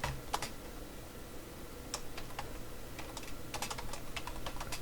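Fingers type on a computer keyboard during an amateur radio outpost message session, producing scattered close key clicks in short bursts over a low steady background hum.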